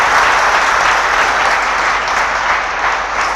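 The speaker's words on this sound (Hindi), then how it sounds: "So now clap with the rapturous applause." Rapturous applause from an audience at a personality development and soft skills seminar, a dense, loud and sustained wash of clapping with no pause and no voices.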